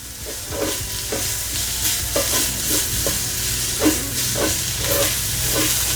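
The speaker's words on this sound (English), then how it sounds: "Just a little bit of avocado oil, and then get this garlic in there." Garlic sizzles in avocado oil in a hot pan, giving a steady close hiss, with periodic stirring scrapes and clicks breaking through at a regular rhythm.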